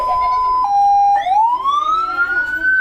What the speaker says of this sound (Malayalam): അതിന് വേണ്ടിയിട്ട് നമ്മൾ ഉപയോഗിക്കുന്ന സൈറനാണ്